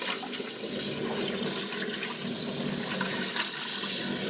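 Water pours steadily into a fitting and sets a part spinning, a constant rushing, gurgling flow heard close and loud throughout.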